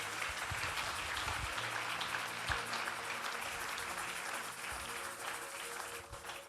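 A church congregation keeps up a steady round of applause for the word of God during a Sunday service, a soft, even wash of many hands clapping at a distance with no talking.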